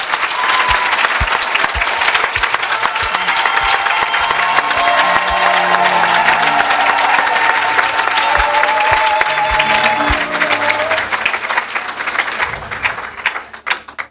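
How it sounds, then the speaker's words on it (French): A church congregation applauds loudly and steadily for about fourteen seconds, with scattered cheers rising through the dense clapping before it fades out at the end. "Est-ce qu'on peut acclamer Jésus?"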